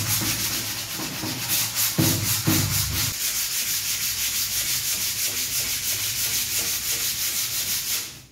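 Rust being sanded off painted steel, a close, continuous rhythmic rubbing scrape with a few heavier thuds near the start.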